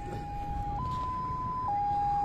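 A Punjab Police vehicle near an old fort on the India–Pakistan border sounds its siren, a steady electronic tone that steps up in pitch and back down, heard at a moderate distance over faint outdoor background.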